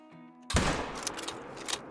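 A single sharp rifle shot fired at a bull elk in the hunting game Call of the Wild, loud and sudden after quiet, followed by a rolling echo that fades out over a second or so.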